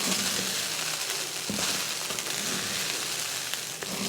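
Cooked rice being mixed through a pan for Tamil-style coconut rice, a steady broadband crackle and scraping hiss with faint soft knocks, close and continuous.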